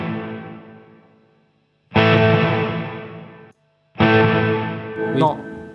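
Electric guitar played through a JHS Plus Series reverb pedal with pre-delay, loud sustained chords in three separate strums, each ringing out with a washy reverberant tail that fades or cuts off.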